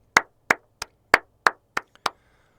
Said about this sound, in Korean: 이거는 박수 다 같이 한번 쳐야 됩니다.